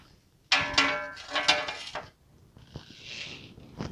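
Metal bolts for a Raptor 700 skid plate clink and rattle close by in two short jangling bursts, followed by softer shuffling and light taps.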